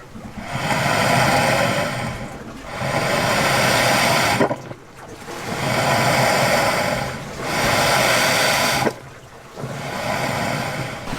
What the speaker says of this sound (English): Listen to the ocean breathing.